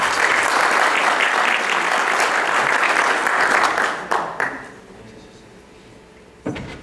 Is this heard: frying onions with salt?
no